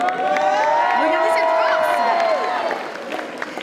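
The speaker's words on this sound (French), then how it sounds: "On va applaudir notre accessoiriste préférée qui était notre présentatrice d'hier" A crowd at a cosplay contest at the Rennes Japan Manga Wave convention cheers loudly with whoops and shouts for a contestant, a dense wall of voices that fades slightly toward the end.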